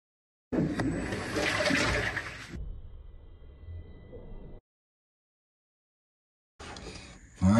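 A top-loading washing machine fills with cold water on a heavy-soil, no-spin cycle for raw denim double-knee jeans, rushing loudly for about two seconds, then a quieter trickle, a pause, and the water flow resumes near the end.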